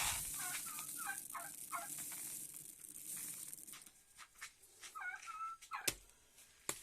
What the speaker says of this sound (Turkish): Bu tavuğumuz.